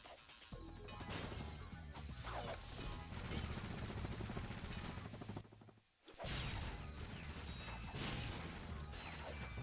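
A bomb glove bomb going off in Ratchet & Clank on the PS2: a loud, dense crash lands around six seconds, after a short dip, and sits within constant game noise and music that carries on before and after it.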